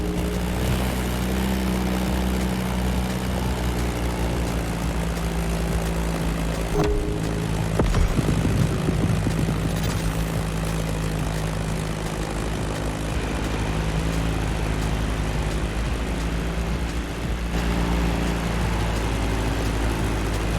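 A Beechcraft Staggerwing propeller plane in The Crew Motorfest drones steadily and loudly throughout, its engine hum holding a constant pitch with a brief swell midway.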